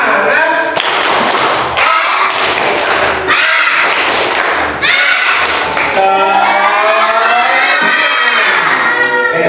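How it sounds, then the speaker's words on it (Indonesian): Classroom children perform the tepuk semangat clapping chant, rhythmic claps and thumps in bursts with loud chanting and shouting voices, ending in a long shouted cheer. "coba tepuk semangat satu kali aja"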